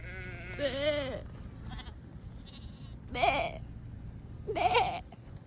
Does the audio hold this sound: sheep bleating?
yes